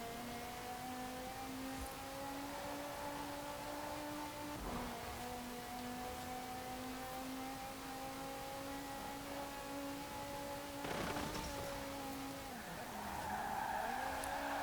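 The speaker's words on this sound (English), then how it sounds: "I'll let you listen to the engine first before I talk some more" A continuous, loud 2016 Spania GTA Spano supercar engine drone in Forza Horizon 4 holds a steady pitch, then dips and climbs as the car shifts and rounds corners, with brief bursts of tire noise.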